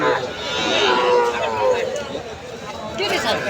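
A cow at a busy cattle market lets out a long, drawn-out moo close by, with a second lowing call near the end, over a murmur of people in the background.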